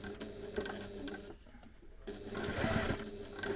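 A sewing machine bastes along the side of fabric, a rapid mechanical stitching patter that pauses briefly midway and then resumes, close and fairly quiet.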